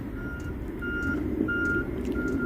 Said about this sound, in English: There's the dump truck waiting for another scoop.